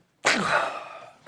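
A single sharp sneeze bursts out after a moment of silence, loud and close, followed by a breathy tail.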